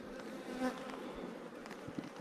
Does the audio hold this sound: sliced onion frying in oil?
no